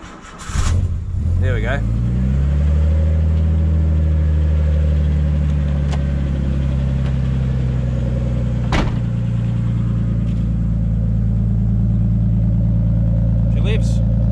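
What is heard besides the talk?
Nissan R32 Skyline RB25DET engine starting then revving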